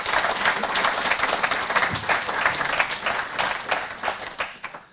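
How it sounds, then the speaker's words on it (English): A crowd applauds steadily and loudly for several seconds at an event previewing the All Ireland Sheep Shearing championships, dense clapping that tapers off slightly at the end. "just give them all a round of applause"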